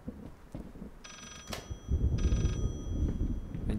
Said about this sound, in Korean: 근처에서 전화 소리가 나는 거 보니까